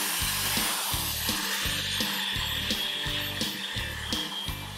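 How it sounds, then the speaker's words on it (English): A power drill spins a wire brush in steady, grinding bursts against a rusty cast iron Dutch oven, with a rough scraping hiss and rhythmic motor whine throughout. "just a very few minutes with the drill and our wire brush"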